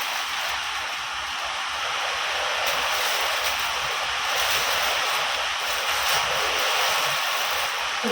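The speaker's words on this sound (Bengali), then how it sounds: "কীরকম বৃষ্টি হচ্ছে দেখো।" Heavy rain pours down in a steady, dense hiss that fills the whole scene without letting up, loud and close, with no voices.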